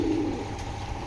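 A pet pigeon, one of several fancy breeds, gives a single low cooing note, close and fairly quiet, over a faint background hum.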